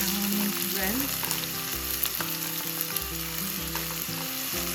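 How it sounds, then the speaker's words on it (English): Onions, whole spices and fennel seeds sizzle steadily in hot oil in a pan, with a continuous close frying hiss and a few scraping stirs, no voices. "Add the onions and saute this onions well"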